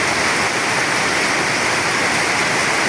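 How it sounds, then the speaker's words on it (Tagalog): Heavy downpour drumming on a house roof, a dense, loud, unbroken roar of rain that fills the whole stretch with no letup and no voices. "Hello, ang lakas ng ulan guys ngayon."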